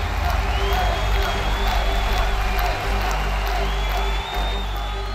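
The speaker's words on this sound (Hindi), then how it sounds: "जोरदार तालियों से स्वागत कीजिए" A large crowd claps and cheers steadily in welcome for Sonia Gandhi at a political gathering, a dense, continuous roar of applause and voices that holds loud throughout.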